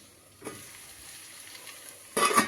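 Cauliflower florets frying in a pan for a home breakfast, a soft steady sizzle with two louder bursts of stirring near the start and end, close and without speech.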